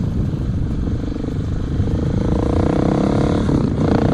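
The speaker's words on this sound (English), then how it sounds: "Back then, you can only hear my motorcycle." Motorcycle engine and exhaust captured from a helmet camera while riding, a steady loud drone with low rumble and rising engine tones toward the end, continuous with no talk.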